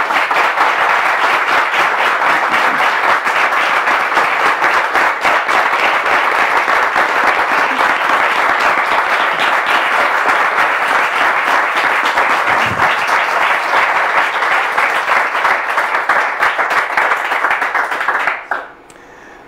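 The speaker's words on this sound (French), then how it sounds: "On va la faire entrer avec vos applaudissements," A studio audience applauds to welcome a guest onto a talk show set. The clapping is loud and sustained for nearly twenty seconds, then drops off abruptly near the end.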